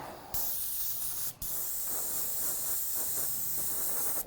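A shaken spray paint can gives a test spray for painting a game piece: a loud continuous hiss with a short break partway through, sounded close and alone.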